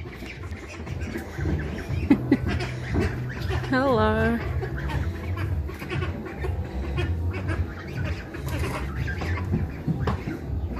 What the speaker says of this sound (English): The duck or goose is on my foot.